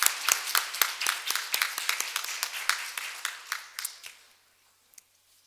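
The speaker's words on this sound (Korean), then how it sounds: "하나님께 영광의 박수를 돌리겠습니다." Congregation clapping during a 2022 year-end church worship service: sharp, distinct claps in a quick even rhythm, loud at first, then thinning and fading out, with a couple of stray claps after near-silence.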